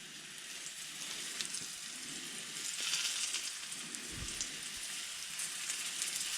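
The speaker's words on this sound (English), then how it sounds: "Just going to fry this in batches" Floured venison pieces frying in oil heated to just smoking make a steady, busy sizzle with crackling pops, close and continuous, with no talk over it.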